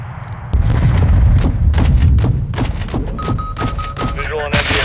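Heavy blasts from an air strike in Call of Duty: Modern Warfare II, a dense run of loud booming impacts with rumbling low end, then a steady tone and clanking near the end, under radio-style voices.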